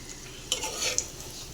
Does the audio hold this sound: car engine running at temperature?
no